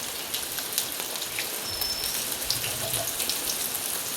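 Brinjal slices shallow fry in oil, giving a dense, close spatter of pops and crackles over a steady sizzle, with no talk.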